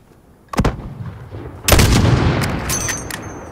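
Two loud, sharp reports from a sniper rifle in the video game Call of Duty Modern Warfare Remastered, over a second apart, the second followed by a long echoing tail.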